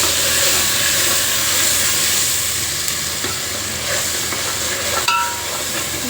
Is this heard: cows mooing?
no